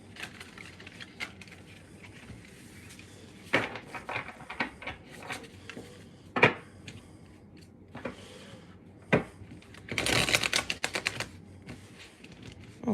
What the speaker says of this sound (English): New decks can be hard to shuffle.